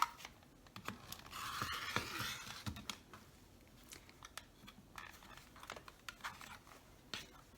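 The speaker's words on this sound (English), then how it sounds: "now I'm going to cut the half square triangles on that drawn line" Fabric is cut into half square triangles along a drawn line, producing faint, irregular snips and crisp cutting sounds with light handling noises at close range.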